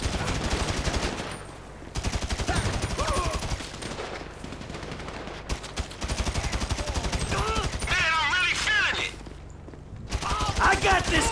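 Rapid gunfire from a shootout in Grand Theft Auto V, sustained bursts of shots crackling throughout, with voices talking over the shooting.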